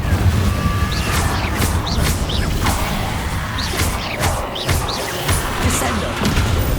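Confringo fire spell blasts in Hogwarts Legacy, several whooshing bursts and crashing impacts in quick succession over a dense rumble of combat noise.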